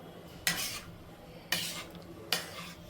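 A spoon scraping vegetables in butter and oil in a pan for pav bhaji, three distinct scraping strokes spaced about a second apart over a quiet background.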